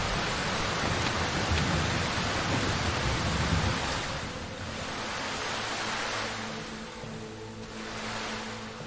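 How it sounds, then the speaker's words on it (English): Heavy rain in the horror video game Darkwood pours as a dense, loud hiss that swells and eases in slow waves, continuous throughout with no talk. "I kind of like having to talk over the loud rain"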